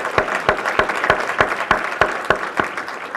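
Audience applause at a Maryland Legislative Black Caucus gubernatorial forum, heard as a steady, evenly spaced series of distinct claps, as if a few hands clapping in rhythm, with no talking.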